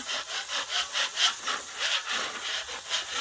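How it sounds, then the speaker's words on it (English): A metal scraper rasps across a seasoned Blackstone griddle in a series of quick, rhythmic back-and-forth strokes, close and moderately loud, with no talking. "let's scrape off a little bit of this here seasoning"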